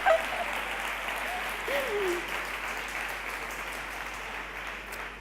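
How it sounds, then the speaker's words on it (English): A conference audience of women at a morning session claps in a steady, even patter that sounds somewhat distant and soft, with a brief voice in the background. "Yay, clap for yourselves"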